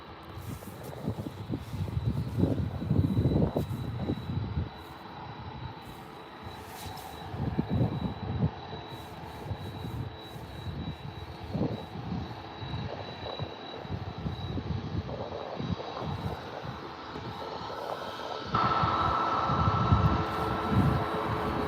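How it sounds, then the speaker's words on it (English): An EasyJet airliner landing at Birmingham Airport produces a moderate, rumbling engine roar that swells and fades with gusty surges, a thin steady whine running through it and a louder burst near the end. "It was a decent landing for the EasyJet, to be fair."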